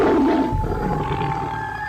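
A deep, sustained growling roar of a strange half-tiger creature, read in a Thai forest ghost story, rumbles steadily and loud, with an eerie tonal edge.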